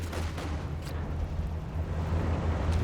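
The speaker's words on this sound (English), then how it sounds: "but in comes the Katyusha" Katyusha rocket barrage in Company of Heroes 2, a rolling, rumbling series of deep explosions with sharper bursts layered over a continuous low boom, loud and dense from start to end.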